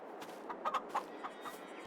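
Chickens in the Farming Simulator 22 video game cluck in a short run of soft, irregular clucks at a low level, with no talk over them.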